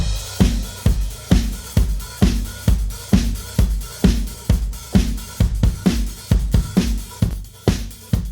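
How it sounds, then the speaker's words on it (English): A punchy drum groove repeats steadily, with heavy kick and snare hits and a reverb tail, compressed and loud throughout with no voices. "the full drum mix with the plugin sounds like this"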